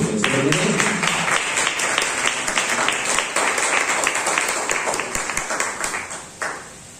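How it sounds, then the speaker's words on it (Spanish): A church congregation at a Spanish-language service applauds loudly and steadily for several seconds, a dense wash of many hands clapping that gradually thins out toward the end. "Denle un aplauso al Señor."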